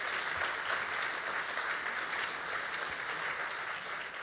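A live audience at a theatre-style event applauds the technical crew, giving steady, dense clapping that fills the room evenly from start to finish without talk.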